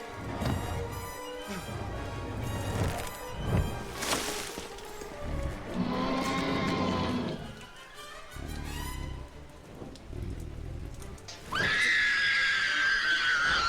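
Characters scream repeatedly in the LEGO Jurassic World video game, loud shrieks over a continuous bed of rain, game effects and whinny-like cries, with a sharp high squeal near the end.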